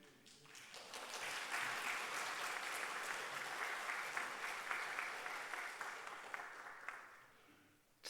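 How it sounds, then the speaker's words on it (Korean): Church congregation applauding during a Sunday service, steady clapping that builds quickly and holds for several seconds before tapering off near the end, with no talking over it. "자동 박수가 나왔습니다."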